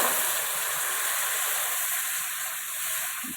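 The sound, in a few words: boiling water poured onto roasted semolina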